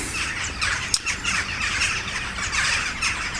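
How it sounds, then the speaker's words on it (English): Crows caw and squawk outdoors beside a van roof rack build, with several loud overlapping calls repeating in bursts and no voices. "Oh, thanks birds."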